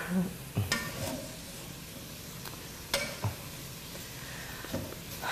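Wooden spoon stirring and pushing zucchini lasagna filling around a pan, giving a few soft scraping knocks over a steady low sizzle, moderately close and fairly quiet.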